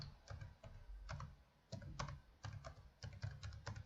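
Quiet, steady keystrokes on a computer keyboard in irregular bursts of clicks, close and alone with no voices.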